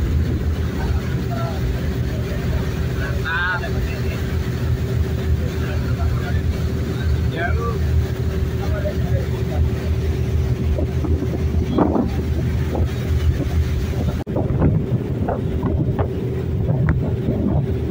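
An express boat on a sea crossing toward Kangean Island drones with a loud steady engine hum under gusting wind buffeting the microphone, with occasional voices and clatter near the end.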